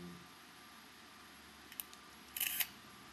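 A camera shutter clicks once faintly, then gives a brief louder mechanical whir-and-click in a quiet room.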